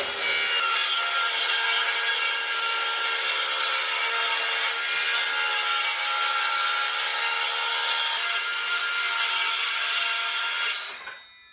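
A power saw cuts through plywood in one continuous, loud, steady pass of about eleven seconds, with a high whine over the woody rasp of the blade, then stops abruptly. No one talks.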